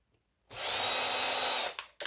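A short, steady whir of a power screwdriver undoing a bolt, close and moderately loud for about a second before it cuts off, followed by a brief restart.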